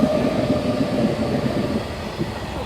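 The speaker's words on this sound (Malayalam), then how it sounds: "ഇത് ഗുഡ്സ് ട്രെയിനാ." A goods train rumbles past at night, a dense, steady roar of wagons and wheels that stays loud and close throughout, with a faint rhythmic clatter underneath.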